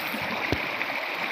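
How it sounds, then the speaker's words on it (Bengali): A stream at Bichanakandi rushes over and around rocks, a steady close hiss of flowing water with one brief splash or knock midway. "পাথরের খোল দিয়ে কীভাবে স্রোত নামতেছে, প্রত্যেকটা পাথরের গোড়া দিয়ে নামতেছে"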